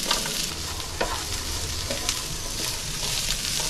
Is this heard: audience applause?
no